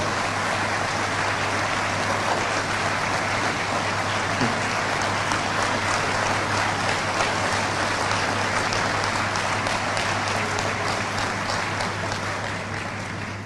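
Students clap at a political rally in a hall, a loud, dense and continuous roar of applause that barely changes for more than thirteen seconds.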